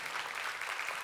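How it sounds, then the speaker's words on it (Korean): A church congregation claps together in a brief, dense patter of applause heard from some distance, fairly quiet and even throughout. "여러분 뜨거운 박수로 격려해"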